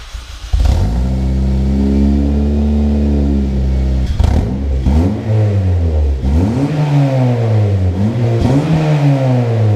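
A Honda Civic Type R with a turbo build and newly fitted, heat-wrapped exhaust starts up loud and close, settling into a steady idle before several sharp revs that rise and fall in repeated swells.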